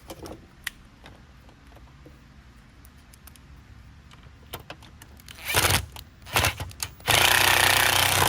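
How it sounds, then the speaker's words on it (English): Screws go back into an Oreck commercial vacuum with a power screwdriver, at first scattered light clicks and handling, then close, loud whirring bursts from the driver, ending in a sustained run. "And just put the screws back in."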